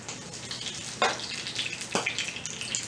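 Onions popping and sizzling in hot oil in a skillet while salmon patties fry, a steady crackling hiss broken by two sharp spattering pops.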